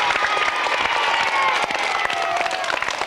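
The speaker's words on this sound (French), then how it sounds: "tout le monde applaudit" A studio audience on a French children's television show breaks into sustained, dense applause after a card magic trick, bright clapping with faint cheering, loud and continuous throughout.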